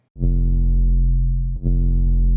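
A thick, buzzing distorted bass note sustains loudly, briefly ducking and restarting with a punchy kick thump midway.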